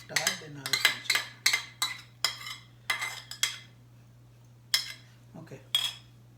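Coleslaw being mixed in a bowl, a dozen or so crisp scraping, clattering strokes in quick bursts with short pauses, close and fairly loud, with no talking.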